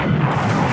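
A torpedo strikes a small cargo ship in the War in the Pacific naval strategy game, a brief, dense booming blast that fills the moment with a low rumbling explosion.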